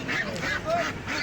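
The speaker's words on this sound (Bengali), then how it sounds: "দেখতে পারতেছেন আজকে অনেক বালি হাঁস এসেছে, রাজহাঁস।" Geese and white Peking ducks at a busy livestock and bird market in Lalbagh, Rangpur, give a burst of several loud, close honks and nasal calls in quick succession.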